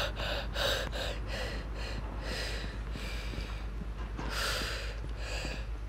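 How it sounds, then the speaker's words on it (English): Heavy breathing sounds close to the mic, with repeated loud, rough gasps and snorting breaths in an uneven rhythm over a constant low hum, during a Call of Duty match. "Sorry, I was breathing heavily."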